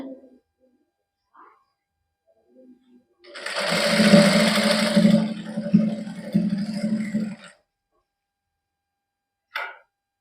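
A domestic sewing machine stitches printed suit fabric with lining in a tailoring setting, running in one steady burst of several seconds between quiet pauses, close and fairly loud, with brief faint sounds before and after.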